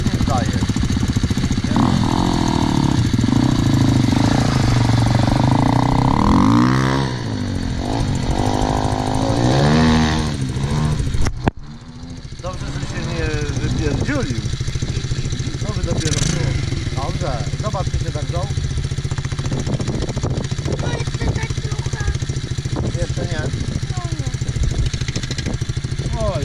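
MRF pit bike engine buzzing loudly while ridden, throttle rising and falling in waves, then settling into a steadier drone after a brief dip; a person talks over it.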